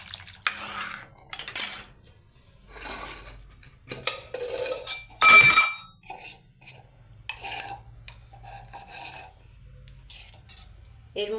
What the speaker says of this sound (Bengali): আমুল দুধটা দিয়ে ভালো করে এবার এটাকে গুলে নেব।